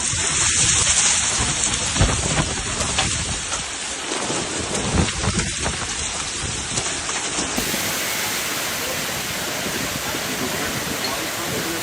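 Heavy rain and hail pour down in a hailstorm in Sofia, Bulgaria, a dense, steady roar of water with rumbling thunder mixed in, loud and close throughout.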